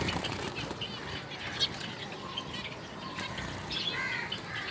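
Pet weaver birds in an aviary eating soft food: a busy, continuous bed of wing flutters, rustling and pecking, with scattered chirps and squawks close by and no talking.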